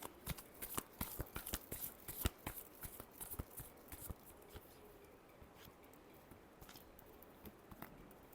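A deck of tarot cards is shuffled in quick, crisp riffling clicks, dense at first and then thinning to scattered soft snaps, quiet and close with no talking.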